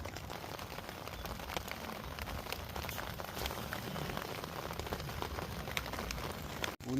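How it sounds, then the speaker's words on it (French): Rain falls heavily and steadily on a tent at a fishing spot, a dense fine patter close by that runs without a break, fairly quiet and without talk. "Ça pleut plutôt bien."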